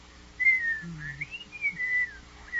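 Someone whistles a short wavering tune, pitch sliding up and down, fairly quiet with a faint low hum underneath.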